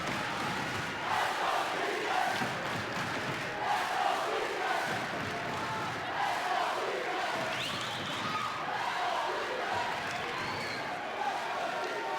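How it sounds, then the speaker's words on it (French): High school senior boys' basketball crowd standing and cheering in a gym, a dense, sustained roar of voices and shouts with scattered whistles, steady and moderately loud throughout. "Et la foule est debout."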